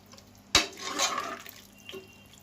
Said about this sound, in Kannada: ಸ್ವಲ್ಪ ನೀರು ಹಾಕೊಳ್ಳಿ